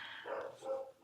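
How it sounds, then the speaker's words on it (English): Dogs bark and yip in the background at home, a couple of short, faint barks heard from a distance behind a quiet room. "You can probably hear my dogs in the background."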